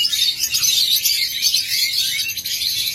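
A pair of Sea Green opaline mutation lovebirds chirp continuously, with rapid high, bright chatter filling the whole stretch, close and fairly loud with no talking.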